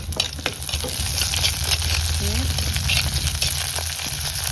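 Curry leaves drop into hot oil and crackle in a loud, continuous sizzle, with stirring scrapes and a brief faint voice over the frying.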